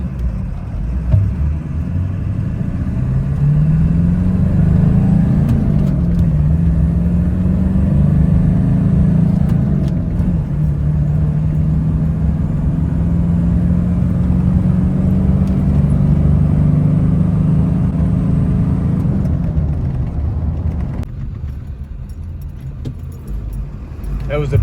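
A stock 1995 Ford F350 pickup with a manual transmission, about 30 years old, drives with a loud, steady engine drone that rises and falls in pitch through the gears and eases off near the end.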